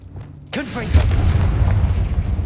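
A Confringo blasting spell bursts with a sudden loud boom in Hogwarts Legacy on PS5, followed by a deep rumbling roar that fills the rest of the moment.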